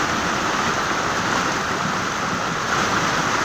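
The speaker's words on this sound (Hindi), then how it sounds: "वहाँ से पानी गिर रहा है" Rainwater pours steadily from a drain during a heavy downpour at Pasighat, a dense, continuous rushing splash that holds even and close throughout, with no voices.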